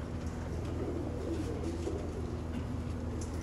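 Soft, steady pigeon cooing from a roof, low murmuring calls blending into a constant background hum with no talking.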